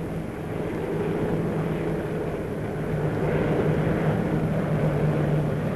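Steady, loud drone of military transport aircraft engines during a parachute drop of guns and jeeps, a continuous low rumble holding even throughout with no voices.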